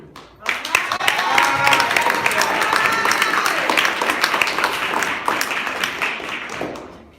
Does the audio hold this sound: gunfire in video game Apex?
no